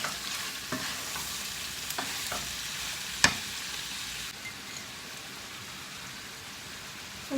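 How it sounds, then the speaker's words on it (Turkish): Salted karnıyarık filling is stirred in a pan, giving a faint, steady sizzle with soft scraping and one brief sharp clack of the utensil midway; no voices. "Tuzumu ekliyorum. Hepsini karıştırıyorum."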